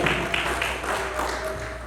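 A church congregation at a Sunday service applauds, a dense, steady wash of clapping that fills the whole moment with no pause.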